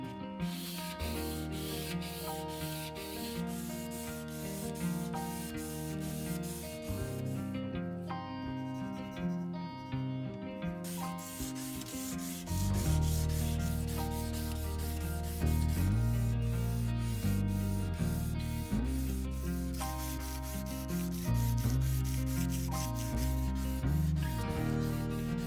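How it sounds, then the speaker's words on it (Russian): A kitchen knife blade is hand-sanded lengthwise to flatten a small wave along its edge, with soft repeated rubbing strokes running under steady background music. "Я решил выправить ее продольной шлифовкой, но это оказался очень долгий процесс."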